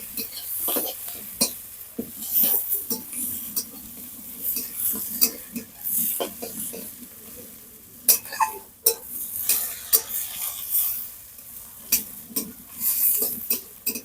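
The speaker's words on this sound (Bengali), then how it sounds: "পেঁয়াজটা হালকা ভেজে নেব" Onion lightly frying in a pan with bay leaves and curry leaves, stirred with a utensil that scrapes and clinks against the metal in frequent sharp taps over a soft, steady sizzle, close and moderately loud, with no talk.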